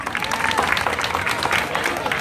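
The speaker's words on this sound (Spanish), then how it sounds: "Aplauso para este pequeño." A crowd at a neighborhood convite in San Sebastián, Zaachila, claps and cheers for a small boy during a carrizo award, steady scattered applause with voices mixed in.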